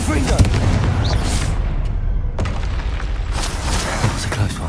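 Fiery Confringo spell blasts in Hogwarts Legacy on PS5 boom and crack loudly in a dense run of explosive bursts, with a brief lull midway before more impacts, game voices mixed in.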